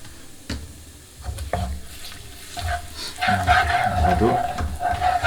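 Chicken in honey sauce stirred in a hot frying pan, with a quiet start giving way to steady sizzling and repeated scraping strokes of a spoon against the pan, growing louder and busier toward the end.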